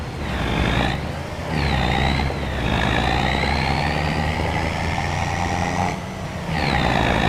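A truck in Farming Simulator 25 idles and revs in steady loud stretches, with a few brief dips between them and faint beeping tones over the low engine drone.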